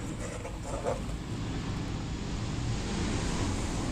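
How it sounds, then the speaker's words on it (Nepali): Water boiling in a pressure cooker while cooking a Nepali nettle (sisnu) and corn dish, a steady, loud rushing roar of bubbling and steam that holds evenly throughout with no talking. "अब पानी उम्लिसक्यो।"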